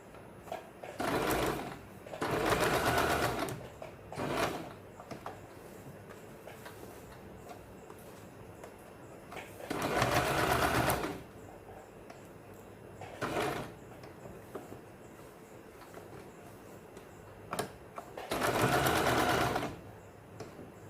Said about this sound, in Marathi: अंतर ठेवल्यानंतर आपण दुसऱ्या साईडला अशी टिप मारून घ्यायची.